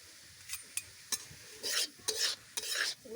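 Coconut stirred in a wok over a fire while making gabhor for Bhogali Bihu, heard as several short scraping strokes followed by longer rasping sweeps with a light sizzle underneath, close and clear, with no talking.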